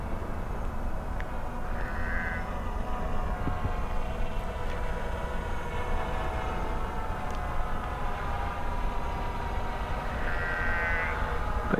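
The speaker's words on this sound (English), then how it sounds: "Try not to piss off the sheep too much." Sheep bleat out on a field while a small budget GPS camera drone hovers nearby, its steady motor whine running under the whole stretch and a couple of short bleats standing out.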